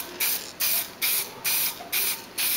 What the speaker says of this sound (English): for the benefit of my friend Jim Stanton, how to paint with Army Painter spray paint.